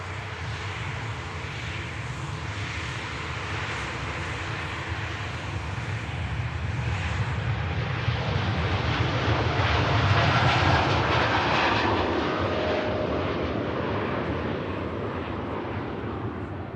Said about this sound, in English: Etihad Dreamliner heading back to Abu Dhabi